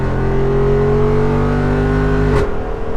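A Jeep Wrangler 392 V8 rumbles loud and close in a steady drone, then cuts off sharply near the end with a brief whoosh.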